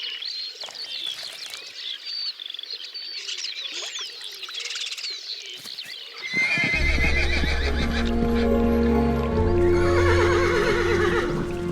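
Wild horses of Letea in the Danube floodplain forest: bird chirps first, then a loud, close horse neigh and whinny with stamping that fills the second half.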